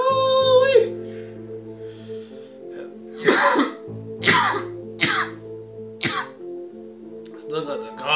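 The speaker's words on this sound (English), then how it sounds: "Still got the cough." Several harsh coughs and throat-clearing bursts break up a steady musical background, spaced a second or so apart and fairly close.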